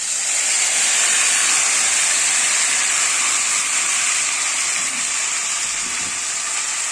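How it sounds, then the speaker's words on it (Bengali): Hot oil spatters and sizzles loudly in a pan as hand-ground paste of onion, cumin, ginger and tomato goes in for a katla kalia fish curry, a steady broadband hiss held throughout with no talk. "তেলটা ছিটকাচ্ছে"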